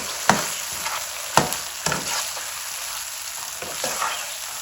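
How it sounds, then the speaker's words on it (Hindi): Yakhni pulao mixture with whisked yogurt is stir-fried over high heat, giving a steady sizzle broken by a few sharp scraping knocks of the spoon against the pot. "इसकी आपने 4-5 मिनट भुनाई करनी है तेज आंच पे।"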